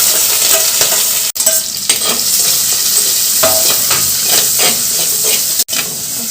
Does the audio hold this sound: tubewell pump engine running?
no